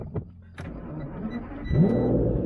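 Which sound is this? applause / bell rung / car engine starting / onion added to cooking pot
car engine starting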